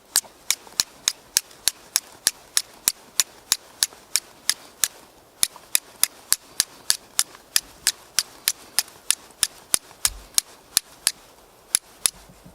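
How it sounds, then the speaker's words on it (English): Flint struck against steel to throw sparks, a long run of sharp, bright clicking strikes at a fairly regular pace, close and alone. "Revolutionary with the flint and steel."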